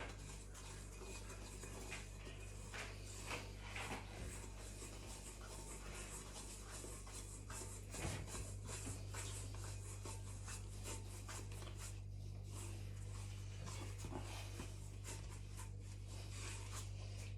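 Sea salt and flour being mixed into cookie dough by hand, giving a steady close scraping and rubbing with occasional light clinks, continuous and moderately quiet.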